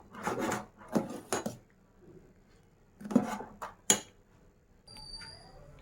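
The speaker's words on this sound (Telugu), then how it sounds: "పిండిని అయితే ఇలా కలుపుతూ ఉండాలండి. నెమ్మదిగా ఉడికించుకోవాలి, లేకపోతే అడుగంటేస్తుంది." Rice flour dough being stirred in a pot as it cooks slowly, giving soft scraping, rubbing strokes in short bursts with pauses between them, close and fairly quiet, with a faint clink near the end.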